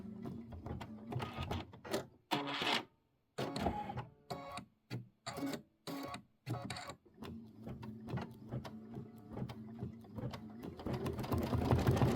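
A sewing machine stitches a doorknob design onto a Kimberbell pillow in rapid mechanical bursts separated by short pauses, then runs steadily near the end, close and fairly loud.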